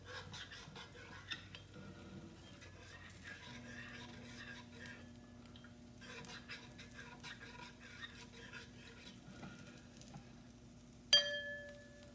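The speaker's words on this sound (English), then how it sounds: "give this gravy a stir" Gravy being stirred in a pot, soft scraping and clinking of a utensil against the pot over a steady low hum, with a sharper metallic clink near the end.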